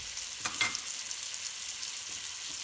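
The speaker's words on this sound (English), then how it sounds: "Then brown the sausage in a large pot with olive oil." Sausage pieces browning in olive oil in a large pot make a soft, even sizzling hiss, with a couple of brief stirring scrapes near the start and no voices.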